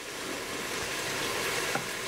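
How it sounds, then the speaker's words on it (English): A steady, hissing sizzle of chicken pieces frying in a pot fills the clip, close and even, with a faint clink partway through. "I think I was talking about sizzling the chicken up and the ingredients."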